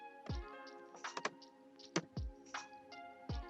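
Typing on a PC computer keyboard followed by presses of the enter key: a few separate, close clicks and thunks spread out with short pauses between them, and no one speaks.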